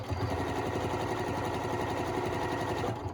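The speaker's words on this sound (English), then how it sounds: "I am going to sew my binding on, okay, with a 1/4 inch. And I've got my walking foot on, but look what happens. So I'm sewing." A Janome sewing machine with a walking foot sews binding onto a quilt, its needle running in a fast, steady mechanical chatter, close and continuous, before it stops at the very end.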